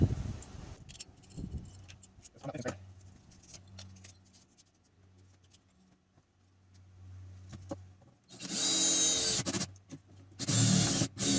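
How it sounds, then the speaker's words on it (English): A power drill whines in short bursts while drilling through a countertop, loud and high-pitched near the end, with quieter tool handling and clatter before it. "what I need to drill out the other side"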